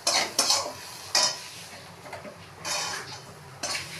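A spoon stirs a spice and yogurt mixture in a kadai, making intermittent scraping and clinking strokes against the metal, close and moderately loud, with quiet gaps between them.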